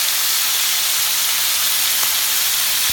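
Oil heated in a hot pan for cooking gives a steady, loud hiss that runs unbroken throughout, with a couple of faint knocks in the background.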